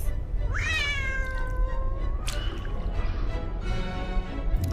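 A cat named Schrödinger lets out a long rising meow, followed by a couple of shorter meows, close and clear over a steady low background hiss.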